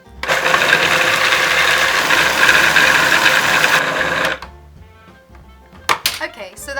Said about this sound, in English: we just clamp our lid on, and we're going to give it a blitz